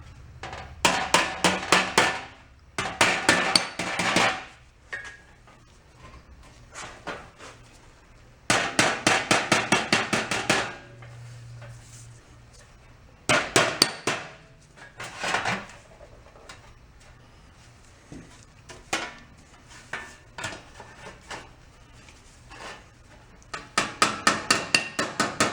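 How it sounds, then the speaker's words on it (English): Rapid bursts of metal hammering on an anvil, worked while flattening a vintage 1950s cola thermometer, come in loud clusters of quick ringing blows separated by short pauses, with no talking. "Probably what I should have used in the first place is the anvil."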